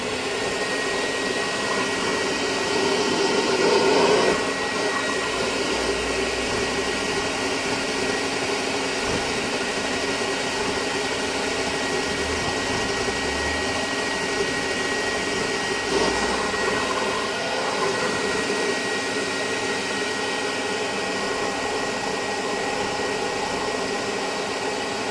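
A vintage Hoover Constellation model 862 vacuum cleaner running close by with a steady, loud, airy whine and broad hiss that holds constant throughout, with only faint shifts in tone.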